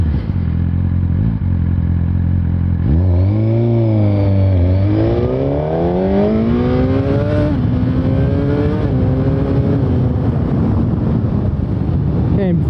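A 2017 Suzuki GSX-R1000 accelerates hard, its engine note climbing through quick-shifter upshifts in a series of rising sweeps. It is loud and close with wind rush throughout.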